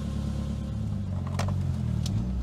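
A Nissan 200SX's engine running steadily as the car pulls away: a close, constant low rumble, moderately loud, with a couple of faint brief clicks over it and no talk.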